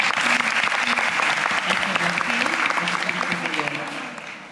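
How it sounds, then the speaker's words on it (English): A crowd at a Pond's event gives a strong round of applause, dense and sustained hand clapping with voices mixed in, tapering off slightly toward the end. "Give her a round of applause again"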